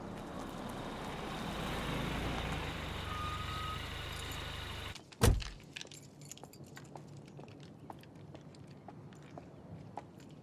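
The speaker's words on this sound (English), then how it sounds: "the truck's gonna come along" A truck arrives in a television drama scene: steady, loud rumbling engine noise fills the first half, then a sharp thud and quieter surroundings follow, with faint repeated ticks that may be reversing beeps.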